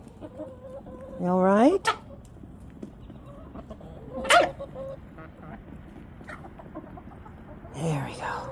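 Chickens in a homestead coop give a loud rising squawk, then a few softer clucks and another cry, with a person speaking quietly in between.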